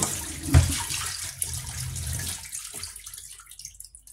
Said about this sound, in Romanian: acum am să vărs apa de pe carne și uitați-vă în chiuvetă cum arată.